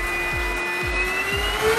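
A Coby UV dual power handheld vacuum cleaner runs steadily and close, a continuous motor hum with a high whine, pulsing faintly about every half second, with no talk.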